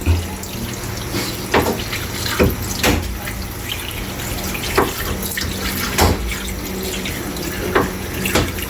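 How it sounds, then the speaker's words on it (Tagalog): Water runs from a tap into a cooking pot for sautéed mung bean stew, a steady splashing stream with a few louder clatters and knocks over it, fairly close, with no talking. "pwede na natin lagyan ng tubig"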